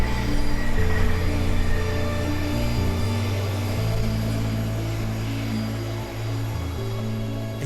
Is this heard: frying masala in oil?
no